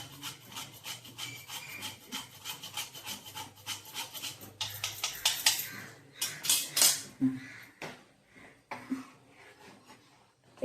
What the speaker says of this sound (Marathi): गुळाचा पदार्थ म्हणून थोडंसं जायफळ किसून घालूया